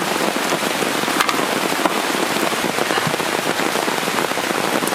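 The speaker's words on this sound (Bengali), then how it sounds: "প্রচণ্ড পরিমাণে বর্ষা নেমে গেছে" Heavy monsoon rain pours down in a Bengali village, a dense, steady hiss of drops drumming on surfaces close by with scattered sharper splats, continuous throughout and with no voices.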